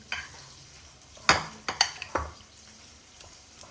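Salad tossed and mixed in a bowl for a Turkish Adana kebab wrap: a few soft clattering stirs and scrapes near 1.3, 1.8 and 2.2 seconds, with quieter rustling between, close and moderately loud with no talking.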